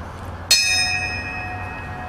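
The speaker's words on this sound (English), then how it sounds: "the police and fire departments rang bells and played bagpipes" A single bell, rung by police and fire departments at a 9/11 memorial gathering in a park, strikes once sharply and then rings on with a long, clear, slowly fading tone.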